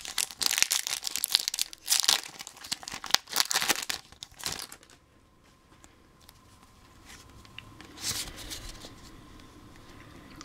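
Crinkly plastic foil of a Pokémon EX FireRed LeafGreen booster pack tearing and crumpling close by in dense bursts for about five seconds, then quieter rustling and a brief crinkle near the end.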